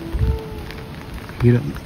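Rain falling in a Konkan village near Khed, Ratnagiri, a steady hiss of drops under a voice speaking briefly, with a low thump near the end.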